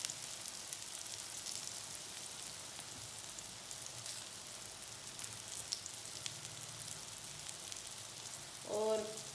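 Potato semolina donut patties fry in oil over low heat with a steady, close, even sizzle and crackle throughout, and a voice briefly appears near the end.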